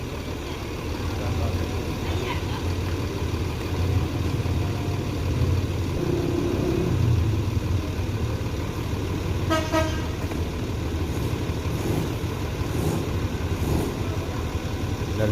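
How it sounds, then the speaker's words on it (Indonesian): A Parala intercity bus rolls into the Solok bus terminal, its engine a steady low rumble with a brief, bright multi-tone horn toot midway and other horns sounding faintly nearby. "Satu unit Parala memasuki Terminal Baris Solok."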